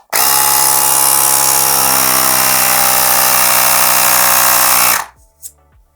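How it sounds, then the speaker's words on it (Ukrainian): A Parkcity C3106 40 W portable car air compressor runs loudly and steadily for about five seconds with a strong harmonic motor drone, then switches off abruptly, leaving a few faint clicks. "не дивлячись на свої розміри, доволі потужний потік повітря видає даний компресор"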